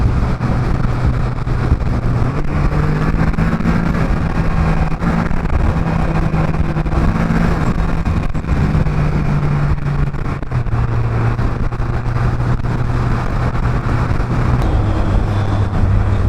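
A Can-Am Spyder F3 S engine under throttle while riding, a continuous loud engine drone with rising and falling pitch, mixed with heavy wind rush.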